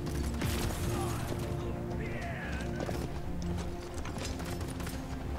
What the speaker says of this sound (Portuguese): Como que eu desço do cavalo?